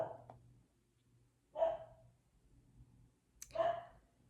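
A dog barks twice, sharp single woofs spaced about two seconds apart, fairly close in an otherwise quiet indoor room.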